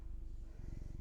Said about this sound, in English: I don't know if you can hear him, but he's purring really hard.